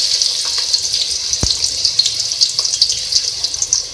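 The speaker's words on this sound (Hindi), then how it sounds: "सबसे पहले ऑयल में हम प्याज ऐड करेंगे।" Onions frying in oil for aloo gosht give a steady, bright sizzling hiss with scattered small crackles and pops, plus one short low knock.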